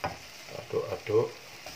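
Food with black pepper is stirred in a frying pan, giving soft scraping strokes of a utensil over a low, steady sizzle, close and quiet.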